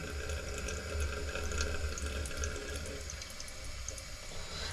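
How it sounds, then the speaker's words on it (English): A toilet held down for a long flush, giving a steady rushing gush of water with low turbulent churning, fairly close and continuous throughout, slowly easing slightly toward the end. "I gave it a long flush"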